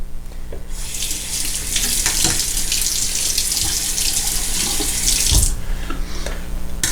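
Hot water runs from a bathroom sink tap during a wet shave, a strong steady hiss and splash lasting several seconds before the flow cuts off, with a few faint knocks around it.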